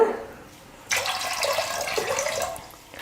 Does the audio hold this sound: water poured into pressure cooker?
yes